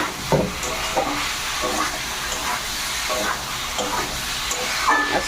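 Potatoes and flat beans stir-fried together in a pan for a vegetarian Bengali dish, giving a soft steady sizzle broken by a few scraping stirs, close and moderate in level with no talking.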